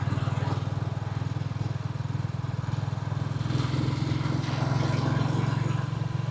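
A Royal Enfield or Moto Guzzi V7 motorcycle ridden along, its engine a steady low throb with rhythmic pulsing and faint wind and road noise throughout.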